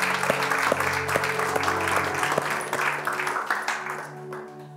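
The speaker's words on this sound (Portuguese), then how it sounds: "Você pode dar uma salva de palmas ao único na igreja do Senhor." A church congregation applauds together, a dense, steady wash of clapping that fills the room and slowly thins toward the end, with a sustained musical tone carrying on beneath it.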